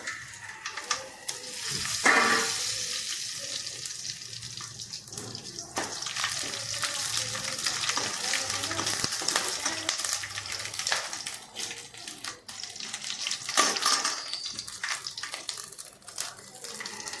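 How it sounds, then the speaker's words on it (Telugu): Whole spices fry in hot oil in a pan as the base for tomato rice, giving a steady broadband sizzle with occasional stirring clinks, close and continuous with no talk. "ఫస్ట్ మసాలా సామాన్ వేస్తున్నాను"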